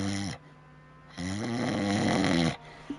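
A man imitates snoring with his voice, two drawn-out nasal snore breaths, the second longer and louder, separated by a quieter pause, close and alone.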